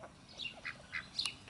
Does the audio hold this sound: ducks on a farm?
yes